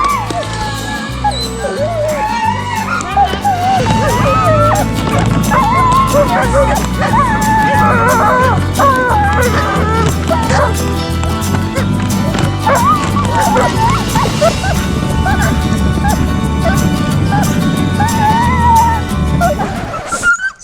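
Many sled dogs bark, yip and whine excitedly and continuously before setting off in Lapland snow, a loud noisy chorus with some voices mixed in.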